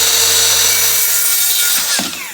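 A circular saw cuts wood into wedges, the loud, high whine of the blade biting steadily through the board before the cut ends and the motor sound drops away near the close.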